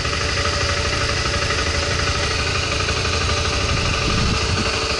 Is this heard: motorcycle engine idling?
yes